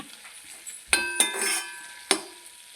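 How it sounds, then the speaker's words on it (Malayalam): Dried prawns, fried earlier, drop into a tomato masala in a pan. Sharp clinks and scrapes of a spoon against the pan sit over a soft, quiet sizzle. "ഇതിലേക്ക് നമുക്ക് വറുത്ത് വെച്ച ചെമ്മീൻ ഇട്ട് കൊടുക്കാം."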